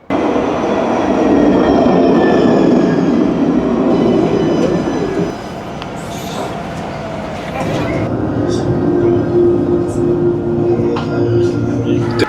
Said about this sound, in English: That's the end of the line for that tram there.